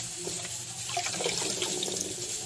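Tap water running into a kitchen sink while pechay and potatoes are washed, a steady close splashing stream with slight shifts as the vegetables move under it.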